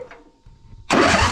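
A small engine with newly connected spark plug and zip-tied choke and throttle cables fires briefly, a sudden loud burst of combustion after a quiet, faintly rustling moment.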